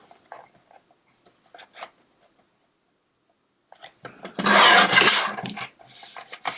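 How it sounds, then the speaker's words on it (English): Patterned cardstock is trimmed to 4 inches on a paper trimmer for spring cards, with a few soft taps and scrapes, then a louder gliding cut of about a second followed by lighter rasping handling noises, all close by. "I'll go ahead and trim this to 4 inches."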